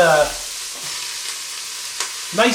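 Vegetables sautéing in an Instant Pot on the sauté setting, soft sizzling with a few brief stirring scrapes over a short stretch, quiet and close with no talking.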